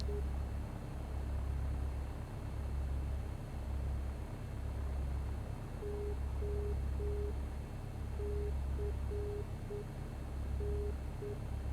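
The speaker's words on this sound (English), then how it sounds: "So here is the Morse code." A Morse code identifier from the Oceanside VOR navigation beacon, a steady tone keyed in short and long beeps, heard faintly over a constant droning hum with pulsing low engine noise.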